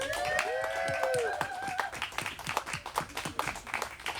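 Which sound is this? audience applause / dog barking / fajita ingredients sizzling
audience applause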